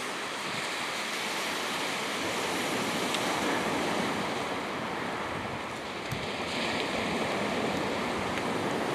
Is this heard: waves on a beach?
yes